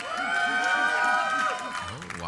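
Audience at the IPL 3 esports semifinal cheering and whooping for the teams, a loud, dense crowd roar with rising and falling shouts throughout.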